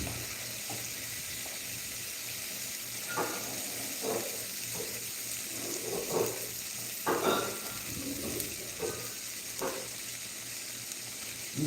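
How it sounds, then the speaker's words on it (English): A pan sizzles and fries steadily after being deglazed with white wine, with scattered clinks and stirring knocks over a continuous hiss, fairly close. "We call that deglazing with some white wine."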